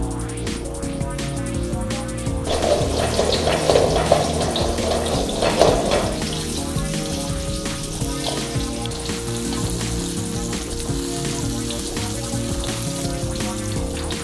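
Fish finger pieces dropped into hot oil bubble in a loud, close burst that settles into a steady hissing fry with no talking.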